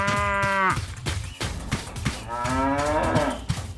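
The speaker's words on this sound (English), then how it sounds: "The cows rush in and eat all the grass happily." Cows moo loudly in several long drawn-out calls, one after another with short gaps, close by and with no talking.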